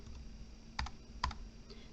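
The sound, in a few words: typing on a computer keyboard to change text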